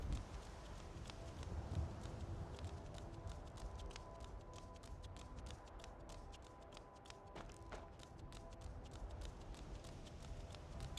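A summoned horse in Skyrim clops along in a rapid, continuous run of hoofbeats, fairly quiet and steady throughout.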